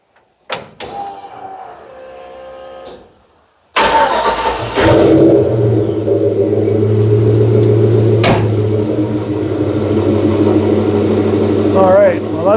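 A 1964 car engine, freshly repaired fuel system holding 60 PSI, starts after a few seconds of brief talk and clatter, then idles steadily and loudly with a constant low rumble for the rest of the stretch.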